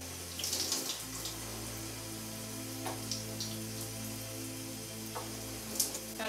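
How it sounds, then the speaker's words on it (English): A tap runs steadily into a sink while hair brushes are rinsed under it, a continuous close hiss of water with a low hum, and brief splashes and knocks as the brushes move. "Gotta make sure you wash off your brushes to clean them."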